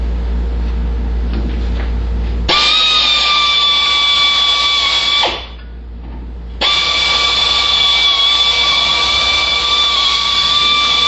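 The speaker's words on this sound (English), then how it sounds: "I'm just using a little 1/2-inch air drill" A 1/2-inch air drill fitted with a step drill cuts spot welds on a '79 El Camino. Two loud, sustained whines are separated by a short pause, each steady and shrill, with nobody talking.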